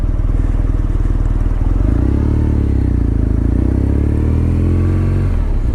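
Motorcycle engine running close by, a loud steady idle with a low throbbing pulse that rises briefly around the middle, heard alone without talk.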